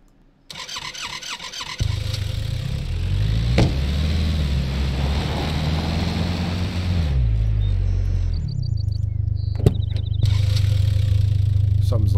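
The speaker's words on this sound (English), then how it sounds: "Sorry for the loud car." A loud car engine in the SCUM survival video game starts up and runs steadily, its revs rising and falling over the clip, with faint chirping birds in the background and no talk.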